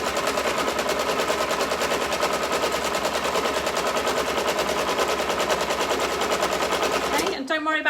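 A sewing machine stitching a seam runs as a steady, fast, close mechanical rattle of even stitch pulses for several seconds, then abruptly stops near the end.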